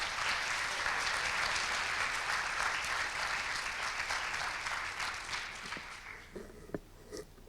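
Audience applause greeting cognitive scientist John Dunlosky at a McMaster lecture, steady dense clapping from a crowd that holds for about six seconds, then thins out into a few scattered claps.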